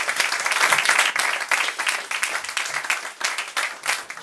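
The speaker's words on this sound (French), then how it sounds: "Dani Chelson, on l'applaudit très fort, mesdames et messieurs." Warm applause from an evening audience for a poet after a reading, a thick, sustained round of clapping with distinct nearby claps, steady throughout with no voices.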